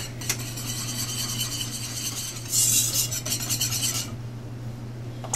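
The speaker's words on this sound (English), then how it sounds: "So I'm going to add some of the cheese and whisk it in." A whisk scrapes rapidly around a pan as freshly grated Parmesan goes into a warm sauce for chicken stuffed rigatoni, making a steady rhythmic metallic rasping that grows louder for a moment and then stops, close by with no talking.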